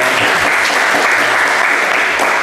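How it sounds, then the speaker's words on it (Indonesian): Steady, dense audience applause fills the room at the close of an academic focus group discussion, loud and unbroken throughout with no pause. "Kasih aplaus sekali lagi."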